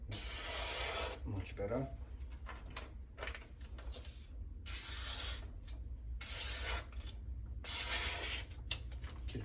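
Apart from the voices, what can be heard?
sanding an edge on 800 grit abrasive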